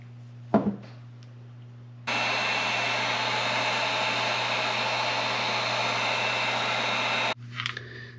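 A heat gun blows a steady, loud roaring hiss for about five seconds while shrinking heat shrink tubing over crimp-and-heat butt splices during a motorcycle dash wiring install, with brief handling clicks before and after.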